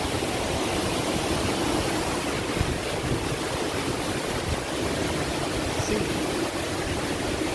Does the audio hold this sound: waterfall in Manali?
yes